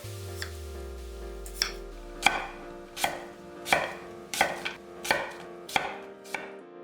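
A knife cuts a small apple, halved and cored, into 0.5 cm thick slices on a board, giving about ten crisp, close chops at an even pace with a faint low hum underneath and no speech.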